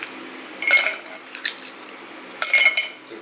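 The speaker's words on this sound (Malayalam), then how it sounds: "ആദ്യം നമുക്ക് ഐസ് ക്യൂബ് ഇട്ട് കൊടുക്കാവേ" Ice cubes drop into a glass in two quick bursts of bright clinks and rattles with a lone tap between them, close and crisp against a quiet room.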